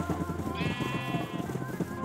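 A gray sheep bleats in the Minecraft game Snake, a single drawn-out bleat over a busy backdrop of game sounds and clip-clop-like blips.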